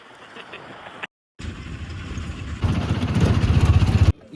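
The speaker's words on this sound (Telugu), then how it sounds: "ఇదే మన త్రిచక్ర వాహనం, దీనితో మనం ఇప్పుడు బయలుదేరేది." A three-wheeled auto rickshaw engine runs near Yaganti temple with a steady mid-pitched putter. It swells louder and rougher partway through after a brief cut, and a voice is faintly present.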